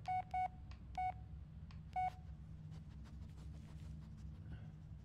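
Phone keypad dialing in the Blair Witch video game: a handful of clear touch-tone beeps in an uneven sequence, some doubled, followed by faint clicks over a low quiet background hum.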